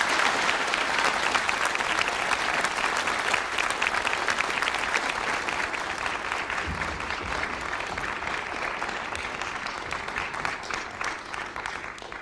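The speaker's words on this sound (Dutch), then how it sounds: "ik vraag dus uw aller warm applaus voor Paul van Vliet" Warm studio audience applause on a 1976 Dutch television talk show, a dense, sustained roar of many hands clapping at steady loudness for the full stretch, tapering only slightly toward the end.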